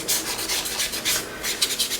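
Dry sanding of a lacquer coat on an Airfix 1:72 Hunting Percival Jet Provost model kit to create a matte finish, heard as close, soft, rhythmic rasping strokes with no talking.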